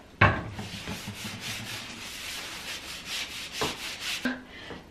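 A rag rubs and scrubs a sink in repeated brisk strokes, close and fairly quiet, with a sharper knock at the start and a few soft bumps between the wiping passes.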